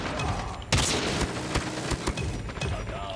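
Rapid gunfire from an automatic turret in a first-person shooter game: dense overlapping bursts of shots with sharp impacts, loud and close, crowding the whole moment.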